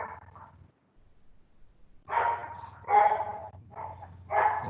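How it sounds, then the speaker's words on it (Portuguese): Dog barking in the background of a home setting, a short yip followed by a burst of several loud, close barks in quick succession after a brief pause, with no talk. "Um cachorro aí."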